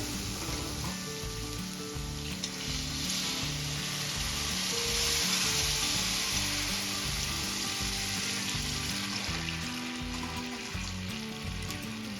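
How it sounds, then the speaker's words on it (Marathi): Hot water poured over ghee-roasted broken wheat in a pan produces a sustained, fairly steady sizzle and bubbling hiss with light stirring underneath, continuous for the whole stretch without speech. "त्यानंतर राहिलेलं सर्व पाणी ऍड करून घ्यायचं"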